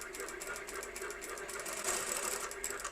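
A professional sewing machine driven by a foot pedal stitches fabric with a quick, even, rhythmic chatter of needle strokes, steady and fairly quiet throughout.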